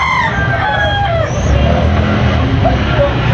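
A rooster crows loudly nearby at a chicken sale in Carbon, Cebu, a drawn-out call over a busy market background with other fowl and low crowd noise.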